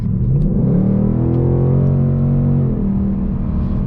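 A 2022-2023 Ford Mustang GT Premium with a 10-speed automatic accelerates hard to pass, its V8 engine note rising loud and close through the rev range before easing off near the end.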